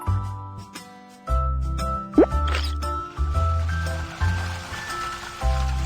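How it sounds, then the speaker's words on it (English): Water from a faucet splashes and plops into a watering can in short bursts, with a bubbling, rising tone as the can fills, close up and alone. "Turn on the faucet to fill up the watering can with water."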